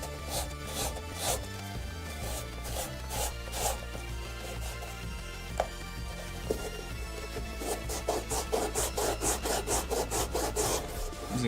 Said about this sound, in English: Using very harsh grit sandpaper on this.